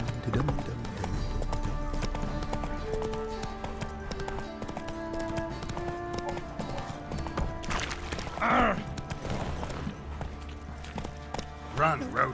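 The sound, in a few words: horse galloping in video game Witcher III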